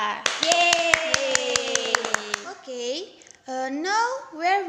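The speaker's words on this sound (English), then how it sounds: "Give applause for all of us." Rhythmic clapping from a class of students fills the first half, crisp repeated claps under a group chant, followed by bright cheering and excited young voices.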